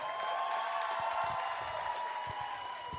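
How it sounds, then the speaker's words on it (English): Applause from friends and family at an induction ceremony, a steady, even wash of clapping from the crowd that holds at a moderate level throughout. "Can you give them a round of applause?"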